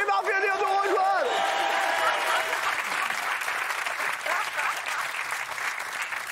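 A studio audience on a French TV talk show bursts into sustained applause with some whoops, loud and dense at first and then tapering slightly, with a brief vocal cheer at the start.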